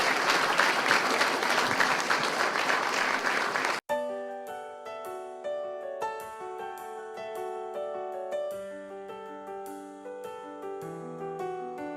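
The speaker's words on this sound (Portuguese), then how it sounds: "Uma salva de palmas para Jesus." Applause at a wedding ceremony, a dense burst of many guests clapping for about four seconds that stops abruptly as music begins and carries on alone.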